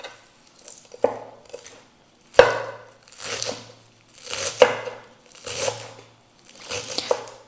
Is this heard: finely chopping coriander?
yes